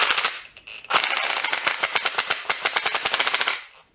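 A Makita impact driver runs in reverse, hammering out a fast, loud, rapid-fire rattle of blows for about three seconds after a short burst.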